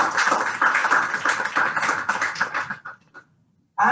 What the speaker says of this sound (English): She deserves for a good round of applause